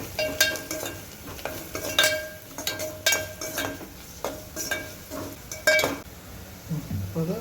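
A metal spoon scrapes and clinks against a pan while stirring turmeric into a tempering of mint and curry leaves, giving repeated irregular clinks over a soft sizzle, close and clear.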